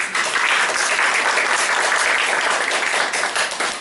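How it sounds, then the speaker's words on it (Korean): A church congregation claps in welcome for its attendees, a loud, dense, sustained round of applause filling the room with no voices over it. "박수로 환영할까요?"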